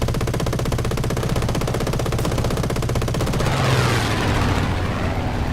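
Rapid aircraft machine-gun fire from a British plane in the War Thunder flight combat game, a continuous loud stream of shots over engine drone with a heavier burst swelling near the end.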